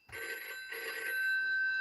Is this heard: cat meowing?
no